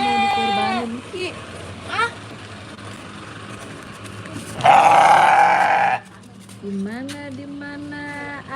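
A sheep kept for sacrifice bleats several times up close, in wavering cries separated by short pauses, with a burst of louder noise in the middle.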